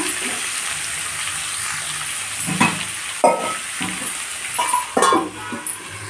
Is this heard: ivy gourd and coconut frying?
yes